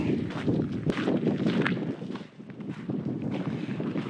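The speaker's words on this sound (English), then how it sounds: "Ooh, it's windy still." Steady wind rushes and buffets the microphone throughout, a continuous low roar with gusty swells and no voices.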